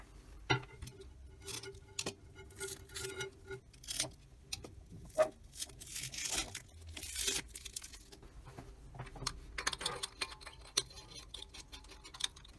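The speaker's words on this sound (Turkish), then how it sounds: "Şimdi bantlarımızı sökelim" Close, sharp tearing and ripping of tape in short bursts, with crinkling and small clicks between pulls, no talking.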